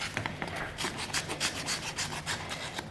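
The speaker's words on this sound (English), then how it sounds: "So what you can do there is just take your sandpaper" Sandpaper rubbed over the rough edges of a dried clay Christmas ornament, a series of quick scratchy strokes in a steady rhythm, close and fairly quiet, with no talking.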